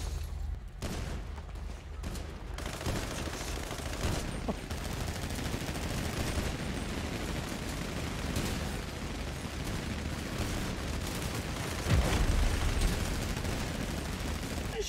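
Gunfire from a game in which a city is set burning, sounding as dense, continuous rattling bursts under a steady noisy din, with a louder swell of shots near the end.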